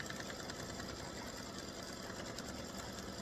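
An embroidery machine stitching a mug rug runs with a fast, steady mechanical whir and needle rattle at moderate level, continuous throughout without talk.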